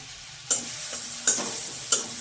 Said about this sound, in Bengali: একটু ভাজা ভাজা হবে রসুনটা।